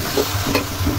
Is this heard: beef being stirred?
yes